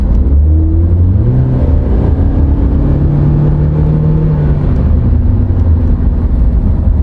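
A car with a 1.8 engine accelerates, its engine note climbing and shifting through the rev range as a loud, steady drone with no talking over it.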